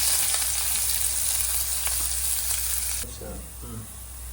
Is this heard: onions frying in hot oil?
yes